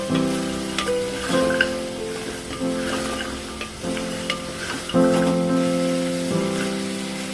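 Chopped carrots, two medium ones, stirred through a mutton bone stew base in a frying pan, giving a steady close sizzle with scraping stir strokes and soft background music.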